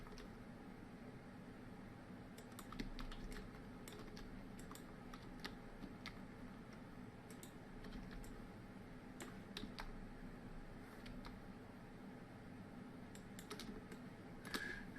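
Computer keyboard keys tapped during a Blender 3D modeling session, scattered soft clicks in irregular clusters over about fifteen seconds, faint and close against a quiet room hiss.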